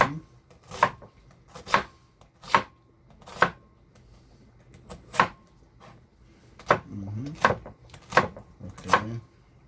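A knife chops red onion on a cutting board in a home kitchen, a series of about eleven crisp, close knocks at an uneven pace, with a few quieter scraping sounds between them and no talk.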